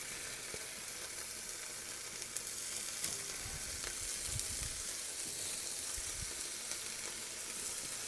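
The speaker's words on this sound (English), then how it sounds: "fry up some bacon." Bacon frying in a pan in an ice-fishing shack on Wekusko Lake, a steady close hiss of sizzling and crackling fat with occasional low bumps, no talking.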